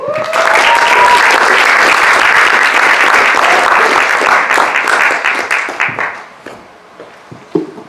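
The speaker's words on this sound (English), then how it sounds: "let's have a big round of applause for Gracie Reagan." Loud, close applause at a 2023 Poetry Out Loud recitation event: dense crowd clapping that holds strong for about six seconds, then thins to scattered claps before a brief vocal sound at the end.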